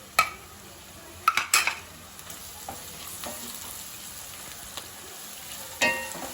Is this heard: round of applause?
no